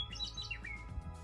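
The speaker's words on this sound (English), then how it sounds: "Oh, and did I mention the birds calling?" Meadowlarks calling in a mountain meadow at Lewis Butte near Winthrop, Washington, in late April: bright, slurred whistled phrases rising and falling close by, over a low steady background rumble.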